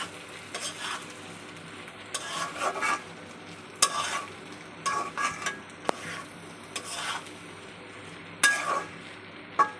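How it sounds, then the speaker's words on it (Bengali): A spatula stirs potato and bitter gourd with green chili frying in a pan, producing intermittent scraping and clinking strokes over a soft continuous sizzle, close up and without speech. "দিয়ে ভালো করে নাড়াচাড়া করে মিশিয়ে নিব"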